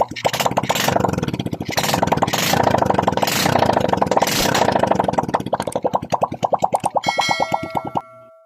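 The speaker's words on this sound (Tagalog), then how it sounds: "narinig na natin ang unang andar ng ating makina" Honda XRM 125 motorcycle engine firing up for the first time after a carburetor and cylinder head rebuild, running without its muffler: a loud, rapid popping putter that steadies, then slows into distinct chugs before cutting off.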